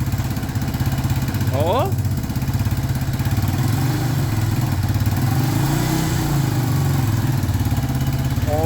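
Engine of a neglected Yamaha Warrior ATV idling steadily after its first start, with a loud close-up rumble and a brief voice exclamation partway through.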